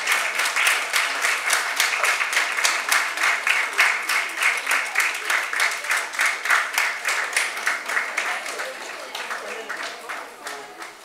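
Studio audience applause welcoming a guest named Madame Sacramento Areta onto a French-language talk show about women and trades, dense steady clapping throughout that gradually thins toward the end.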